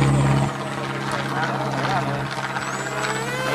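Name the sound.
remote-control helicopter motor flying in wind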